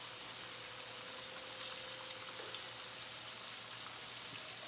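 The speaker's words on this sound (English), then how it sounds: "you know, we just let them fry up." Whiting fish pan-frying for a crispy finish, giving a steady, even sizzle of hot oil that holds at a constant low level throughout, with no one talking.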